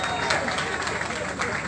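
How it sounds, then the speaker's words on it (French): An audience applauds Madame Caress Fotso at a birthday celebration for a singer, with dense, steady clapping and crowd noise throughout this short burst. "Ladies and gentlemen, on applaudit très fort Madame Caress Fotso."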